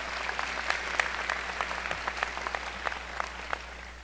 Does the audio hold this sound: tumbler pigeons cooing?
no